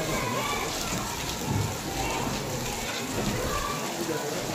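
Steady rain falls across a school courtyard during an outdoor flag-unveiling ceremony, a continuous broadband hiss of drops on the ground with faint background voices and activity.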